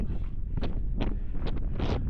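Steady low rumble of wind buffeting close to the microphone, with a few brief gusty flares rising and falling throughout.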